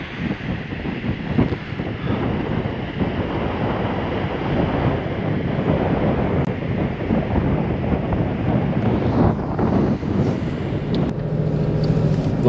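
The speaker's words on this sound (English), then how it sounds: "Wind's blowing a gale." A strong gale blowing on the coast, a loud, constant roar of wind buffeting the microphone with surf mixed in, unbroken for the whole stretch and with no talk.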